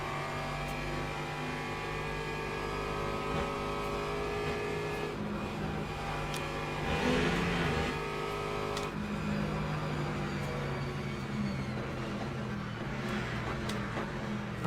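Hypercar engine in the Le Mans Ultimate racing game at Spa, a steady mid-pitched drone with harmonic whine, holding constant with a brief surge around the middle, no talk.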